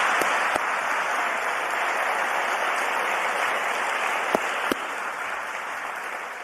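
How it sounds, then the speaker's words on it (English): An audience gives a hearty round of applause for the Jacobus Fellows at a Princeton Alumni Day event. The clapping is dense and sustained, filling a large hall, and a few sharper individual claps stand out from the crowd. "giving all of our Jacobus Fellows one more hearty round of applause"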